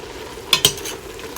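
A spoon scrapes twice through spaghetti sauce seasoned with ground black pepper in a pot, two short quick strokes over a quiet background.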